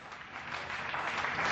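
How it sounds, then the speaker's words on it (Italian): Broad, steady applause from a television studio audience during the Red Bull Stratos jump broadcast, building slightly in loudness over the short stretch with no voices on top. "Anche il nostro studio si apre in un applauso"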